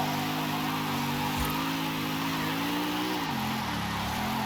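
A Mercedes AMG wagon drifting in Forza Horizon 5, its engine droning steadily under a continuous smear of tire squeal. The pitch dips and rises as the slide carries on, loud and close throughout.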